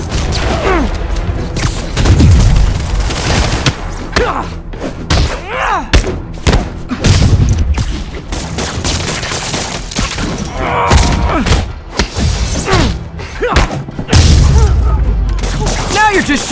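Gunfire and heavy thuds crash through a Spider-Man video game fight, loud bursts and impacts arriving in rapid clusters while voices call out over the action.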